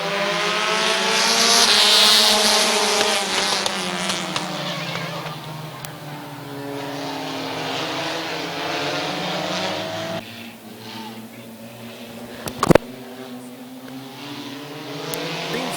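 Race cars rumble and drone at Midvale Speedway, a steady layered engine roar with shifting pitch that swells early, eases off, and carries on loud and close, broken by a sharp brief crack near the end.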